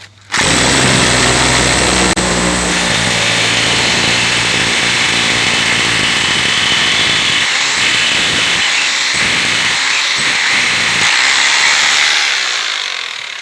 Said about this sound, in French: les tire-fonds que j'ai moi c'est du diamètre 10, donc il faut percer avec la mèche de 10